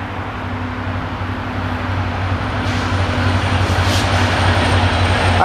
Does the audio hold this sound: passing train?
yes